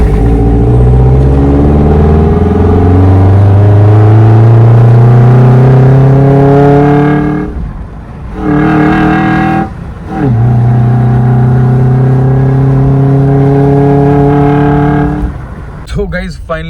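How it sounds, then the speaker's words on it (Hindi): A modified Suzuki Jimny 4x4 set up for off-roading holds a loud, steady engine drone that swells in pitch, drops out briefly twice, then returns and holds before cutting off near the end. "तब तक सुनो आप जिमनी की आवाज़।"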